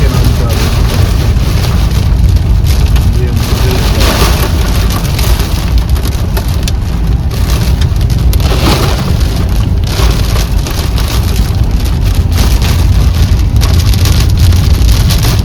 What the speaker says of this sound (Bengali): কি জোরে বৃষ্টি পড়ছে, আর টপ টপ করে শিলগুলো পড়ছে, পট পট করে আওয়াজ হচ্ছে।